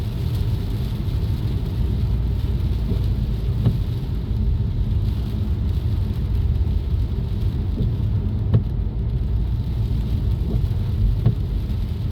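Steady rain pours down in Vientiane, Laos, a dense continuous hiss with low rumble and occasional louder drips, with no voices.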